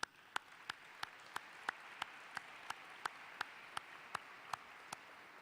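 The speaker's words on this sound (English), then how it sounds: "you should applaud each other tonight" Slow, evenly spaced single claps at a charity gala for the Inner-City Scholarship Fund, crisp distinct hits about three per second over a faint room background.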